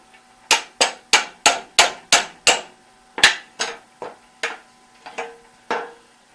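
A hammer strikes a chisel on a car's metal seat mount plate: a quick run of eight sharp, evenly spaced metallic blows, a short pause, then five more slightly softer hits, close and ringing.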